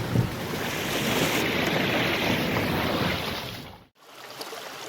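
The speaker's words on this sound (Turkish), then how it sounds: "Bu suyun devamında daha şiddetli bir şekilde su sesi gelmeye başladı." Steady, broad rushing stream water on the way to Kocaçay Waterfall in Döşemealtı, Turkey, fills the scene, loud and continuous, with a brief dropout near the end before it resumes.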